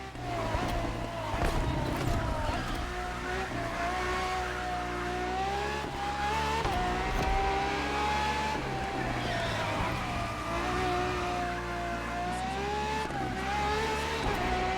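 A Ferrari FXXK in The Crew Motorfest roars loudly throughout, its high-pitched engine note rising and falling with gear changes and acceleration, with steady racing noise around it.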